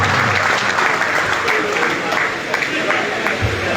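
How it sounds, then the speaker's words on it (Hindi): Loud audience applause at a party honoring a pigeon-keeping master in Jhelum, a dense sustained burst of many hands clapping together, close and continuous, with voices mixed into the crowd noise. "जोरदार तालियां मार दे"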